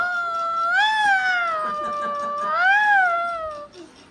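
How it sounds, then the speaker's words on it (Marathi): A cat meows close by, giving two long, drawn-out calls that rise and fall in pitch, with no talking around them. "टिट्टू काय मांजर आहे का"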